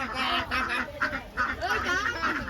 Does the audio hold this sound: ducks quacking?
yes